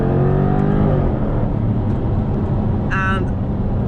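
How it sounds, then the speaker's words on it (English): A Jaguar F-Type R-Dynamic engine roars through a rev with active exhaust valves open, throaty, then the revs fall away to a rumbling idle, with a brief sharp sound near the end. "the sound from this engine when you get over that limit is amazing"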